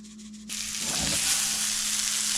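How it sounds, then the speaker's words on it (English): Mushrooms and asparagus stir-frying over high heat at a Catalina Island campsite, starting with a faint steady hum before a loud, hissing sizzle bursts in and holds strong and close. "Got the mushrooms and the asparagus in here, just kind of doing it like stir fry style"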